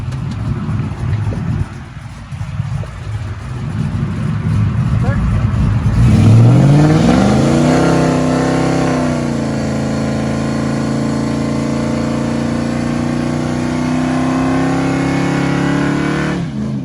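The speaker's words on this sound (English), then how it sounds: "the plan is we're gonna do a little burnout on that" LS-swapped Chevrolet S10 pickup doing a burnout, engine loudly revving up and holding a high, steady roar near the listener, with voices talking early on.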